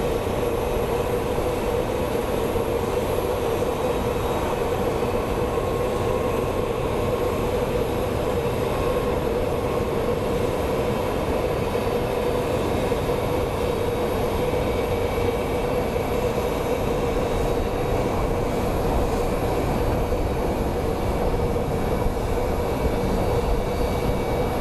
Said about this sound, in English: Golden touchdown by my favorite airline, Alaska Airlines.